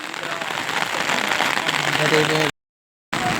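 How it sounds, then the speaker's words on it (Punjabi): Steady, dense rain pours down throughout, a continuous hiss with faint voices underneath, then a brief dropout before the downpour resumes. "ਮੀਂਹ ਲਗਾਤਾਰ ਪੈ ਰਿਹਾ"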